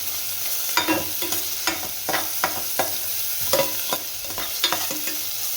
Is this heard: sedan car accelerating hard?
no